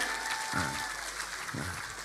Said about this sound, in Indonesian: tepuk tangan untuk Pak Gubernur Kalimantan Timur, Pak Isran Nur, jauh-jauh dari Kalimantan Timur